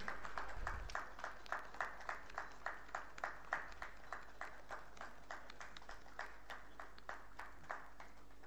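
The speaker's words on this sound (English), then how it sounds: "A round of applause, please, for the listing certificate." Scattered audience applause at a company stock-listing ceremony, steady rhythmic clapping from a modest crowd that stays fairly even and faint throughout, with no voices over it.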